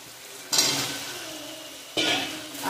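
Potatoes sautéing in a spiced masala with oil, a continuous sizzle broken by two sharp bursts of louder frying as the mixture is stirred and turned in the pan.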